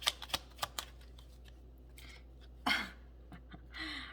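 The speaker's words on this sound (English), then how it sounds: "These cards are hard to shuffle" Stiff, sticky tarot cards are shuffled, giving a few sharp riffling snaps and soft rustles, close and quiet, with a brief breathy noise between them.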